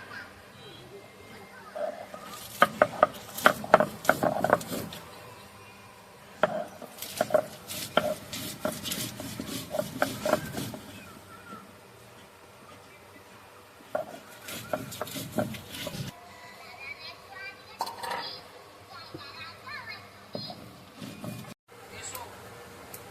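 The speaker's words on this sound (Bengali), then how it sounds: "এবার আমি লঙ্কাটা বেটে নেব।" Green chillies are ground into paste on a stone, with bursts of rough scraping and knocking strokes that come and go in several runs, under intermittent talk in a home kitchen.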